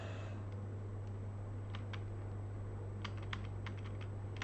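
Scattered keystrokes on a computer keyboard while programming, soft irregular clicks in short bursts over a steady background hum.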